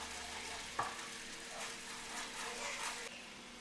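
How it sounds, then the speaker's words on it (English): Fresh garlic sizzles in a preheated pan as it is stirred, giving a steady, soft frying hiss with a scraping knock near the start and gentle swells of sizzle throughout. "I have a preheated pan here. I'm gonna add some more of that fresh garlic."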